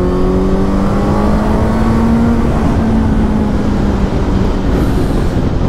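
Loud motorcycle fitted with an Arrow titanium exhaust, its engine droning steadily and continuously at high volume with a rising and falling tone as it rides, heard close throughout.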